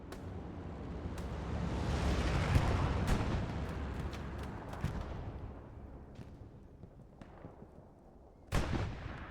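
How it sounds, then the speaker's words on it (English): In the WWII shooter Hell Let Loose, rockets roar across a field as a heavy, rumbling barrage that swells and then fades away, followed by scattered sharp cracks and one loud late bang. "More rockets going across."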